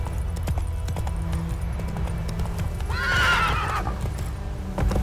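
A horse in The Witcher 3 gives a clear neigh while ridden, set over a steady clip-clop of hooves and rolling game ambience, the whinny rising loudly near the middle.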